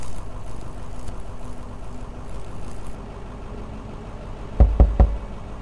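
Three sharp knocks on a door land near the end in the video game Night Bus, heard over a steady low engine rumble of the bus.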